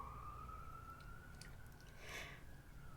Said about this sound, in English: give me a second, the ambulance.